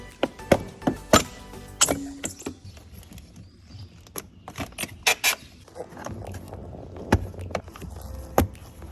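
Interior trim panels being pried off a 2023 Ford F250: a close series of sharp plastic clicks, snaps and creaks in irregular bursts, with quieter handling noise between them and no talking.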